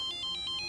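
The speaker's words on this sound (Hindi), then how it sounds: "युवराज मुझे फोन कर रहा है।" Mobile phone ringtone for an incoming call, a rapid high electronic trill pulsing in short even bursts, continuous and fairly quiet with no voices.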